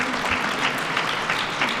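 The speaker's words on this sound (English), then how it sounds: "Can you give a big round of applause to Mayor Lightfoot and her whole team" A short, dense burst of crowd applause at a heritage month celebration, many hands clapping together loudly and evenly without speech.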